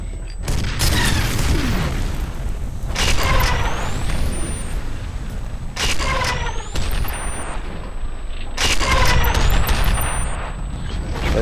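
Repeated bursts of gunfire in F.E.A.R., three loud clusters of cracking shots with ringing, whistling tails spaced a few seconds apart over a constant heavy rumble.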